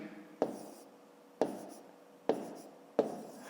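A pen or pencil writes a number during long division in a fifth-grade math exercise, four short close scratching strokes spaced about a second apart against quiet.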